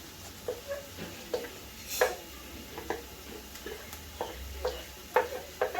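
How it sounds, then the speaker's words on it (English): Garlic, ginger, thyme and parsley stirred as they fry in a pan, giving a soft background sizzle broken by repeated light scraping and tapping strokes of the spoon, fairly quiet and close. "And I stir it."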